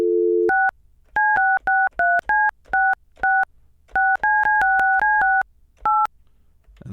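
Telephone dial tone cut off by a rapid series of touch-tone keypad beeps, about fifteen short electronic tones in uneven bursts, clear and close with no voices.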